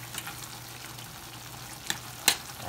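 Fish fillet sizzles and fries steadily in a pan with sautéed tomatoes, a close, even crackle broken by a couple of sharp utensil clinks near the end.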